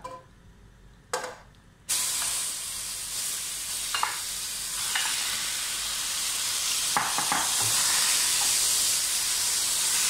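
Chicken pieces for butter chicken drop into a hot buttery pan and break into a loud, steady sizzle with occasional stirring scrapes, after a brief quiet start.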